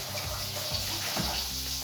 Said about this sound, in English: I just have some hot water from a kettle here